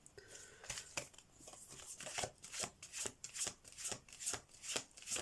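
Tarot cards are shuffled at close range in a quiet room, a string of quick papery riffles and slaps in a steady rhythm with no talking.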